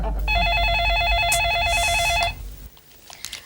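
An electronic telephone ring trills in rapid, evenly pulsed bursts for about two seconds, loud and close, then cuts off into quiet room noise.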